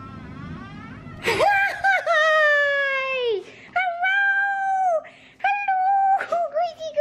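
Dogs at a busy dog park at Lake Baldwin give loud, drawn-out whining wails and moans in several long bursts close by, with short breaks between them.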